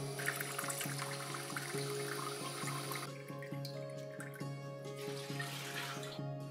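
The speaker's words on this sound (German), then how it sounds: "Mit der rechten Taste wird nun die Maschine komplett gespült und das Wasser läuft einmal komplett hindurch." Philips Senseo HD7866 pad coffee machine on a rinse cycle, water rushing through with a steady hum and a rhythmic pump pulse; the flow eases partway through and continues more softly.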